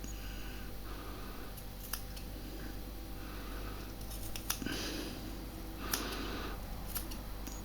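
Ekowool insulation fibres being cut with scissors during a Genesis steel-cable heating install, several crisp snips spread across a steady low background hum, fairly close.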